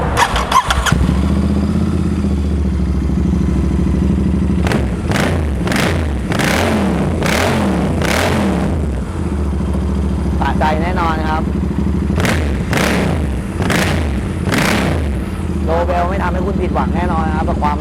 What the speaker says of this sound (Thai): เดี๋ยวเรามาฟังเสียงท่อกันสักหน่อยนึงว่าเป็นยังไงบ้างนะครับ